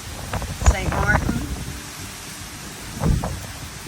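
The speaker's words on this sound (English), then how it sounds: "Tropical Storm Jerry coming in." Gusty tropical storm wind and rain buffet the microphone in Simpson Bay, St. Martin, with rough low rumbling bursts near the start and again near the end over a constant hiss.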